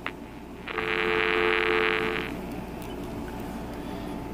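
A BellSouth MH9934BK cordless telephone rings once, a bright electronic trill lasting about a second and a half, standing out above a low mains hum and falling silent afterward.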